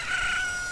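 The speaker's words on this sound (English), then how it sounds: "Look, a chicken hatched from the egg you were incubating." In The Legend of Zelda: Ocarina of Time, a freshly hatched chicken gives one short, loud, bright crow, standing alone.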